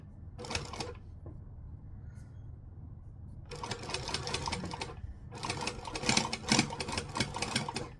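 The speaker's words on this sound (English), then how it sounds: "I am definitely going to sew these on one at a time" A sewing machine stitches piping onto fabric in two long running bursts after a short brief start, steady and close, with a quiet pause between and no talking.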